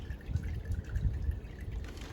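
Water runs and drips faintly over a brined turkey as it is rinsed, a soft, uneven trickle with small splashes throughout and no talking.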